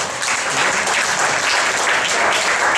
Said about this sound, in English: How about a round of applause for Bart Beneke again?